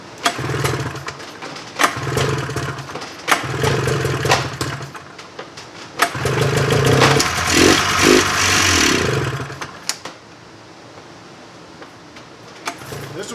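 A 1995 Polaris Indy 440 snowmobile engine being pull-started with a rope in a shop: several short cranking bursts in a steady rhythm, then a louder rough run of a few seconds that cuts out, close and fairly loud.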